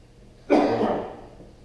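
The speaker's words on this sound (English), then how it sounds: "That's a weird cough." A single close, sharp cough bursts out and then tails off over about a second, with no talking around it, during a sectional pottery throwing session.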